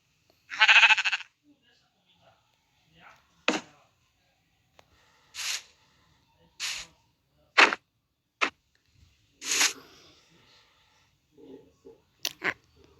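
A blocky Minecraft Bedrock Edition sheep bleats several times in short, separate calls spaced a second or two apart, with a player's voice talking between them.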